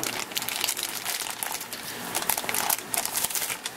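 Inner plastic bag from a shipped fish being cut open with scissors, a close crinkling and crackling plastic rustle lasting a few seconds, no talking.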